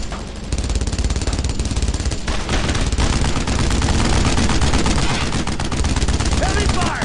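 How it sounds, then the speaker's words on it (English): Heavy gunfire in the WWII shooter Brothers in Arms: Road to Hill 30, with continuous loud rapid rifle and machine-gun fire rattling throughout and layered with battle noise and voices. "Heavy fire!"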